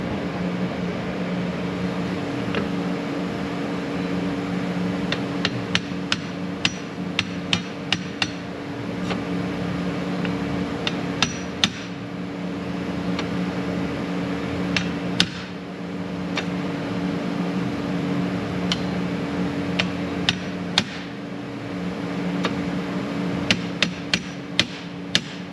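Metal being hammered and bumped into place near a bolted-down part, with scattered sharp single strikes and short clusters of blows over a steady hum of background noise; no one talks.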